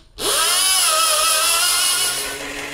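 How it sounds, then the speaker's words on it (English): A loud, steady motorized whir of a blender blending potato and water starts abruptly and holds at full power for a couple of seconds, then eases slightly near the end. "We're going to put that on the blender."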